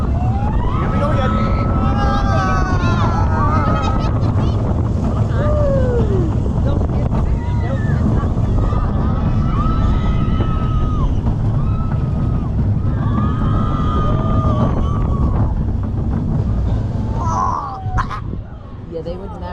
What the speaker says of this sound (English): That's actually really intense for a kiddie coaster.